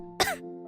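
A woman lets out one short, sharp cough close up, a quick throat-clearing burst in a quiet indoor household scene.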